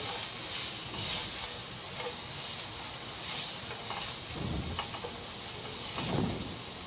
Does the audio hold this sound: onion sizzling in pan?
yes